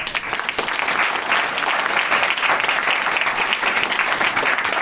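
Dense, steady applause from a seated audience at a team business meeting, a continuous wash of many hands clapping close and loud with no voices over it.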